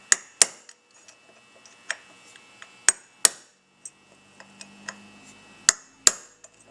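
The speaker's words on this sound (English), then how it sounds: "Little center punch. You want to dent the casting." A small center punch is struck against a metal casting on a Nash Hudson AMC engine part, giving sharp, bright metallic taps at an irregular pace, about a dozen strikes with some louder blows and quieter ones between.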